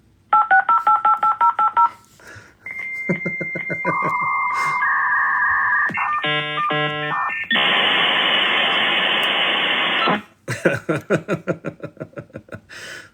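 A dial-up modem connects: dial tones and a string of DTMF digits, then a loud, close run of screeching handshake tones and hissing static, followed by trailing beeps.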